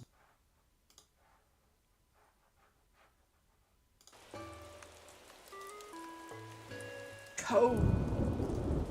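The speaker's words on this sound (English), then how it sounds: "I'm going to turn the sound on in the game for a moment just because you don't see the thunder and lightning very often" Rain and a rumble of thunder in the video game Animal Crossing: New Horizons. After several quiet seconds, steady rainfall rises under soft game music, then a louder thunder roll closes the clip, and a voice speaks briefly.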